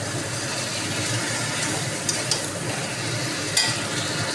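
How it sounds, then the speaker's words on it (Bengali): Meat with spices sautés and sizzles in a pan, a steady hiss of frying broken by a few brief clinks and scrapes of stirring, close and moderately quiet, with no talk. "এই যে মাংসটা কষছি, সব মশলা দিয়ে দিয়েছি"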